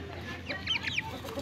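Desi hens cluck in a few short, soft bursts close by as they peck at young Brahma chicks, over a quiet farmyard background.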